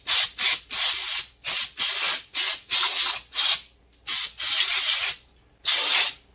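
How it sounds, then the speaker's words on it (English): Compressor air hose blowing in short repeated bursts over sanding sealer on a wooden bass guitar wine table, a loud close hissing spray with brief pauses between blasts, no talking. "I will get my compressor hose and I'll just"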